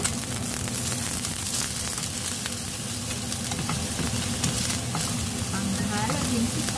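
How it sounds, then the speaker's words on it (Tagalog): Mushrooms frying in a pan for a samgyeopsal meal, a steady close sizzle and crackle running continuously with occasional stirring, loud and even, with faint voices in the background. "magpa-fry din ako nitong ganitong klaseng mushroom"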